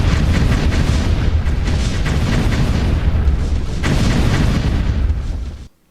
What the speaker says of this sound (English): I opted for these small volcano geyser-like hazards that throw fireballs around randomly.